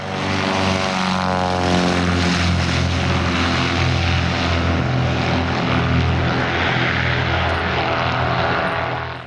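Small propeller airplane in flight en route to Ottawa: loud, steady engine drone with a throbbing prop buzz, heard from inside the cabin, continuous throughout.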